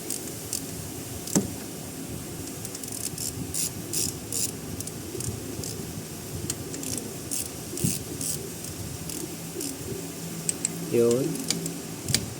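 A ratchet clicks intermittently while cam caps are tightened on a Ford EcoSport cylinder head, the light mechanical ticking scattered under a noisy workshop background.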